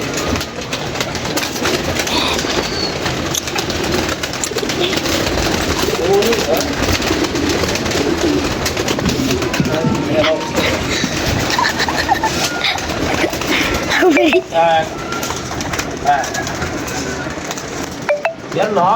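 Captured pigeons coo steadily through a busy, noisy scene, with people talking throughout and occasional clinks and knocks nearby.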